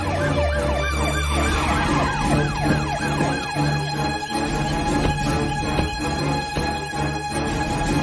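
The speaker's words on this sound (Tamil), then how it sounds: "போலீஸ் ஜீப் வருதே." A police jeep's siren wails in rapid repeating sweeps over an engine rumble, loud and close, shifting to a steadier tone partway through, with no talk.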